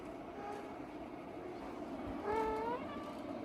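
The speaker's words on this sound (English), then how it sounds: "This cat does not meow, by the way. She's getting very vocal in her old age." An old cat gives a short, rising vocal cry near the end, faint and close, over a steady low room hum.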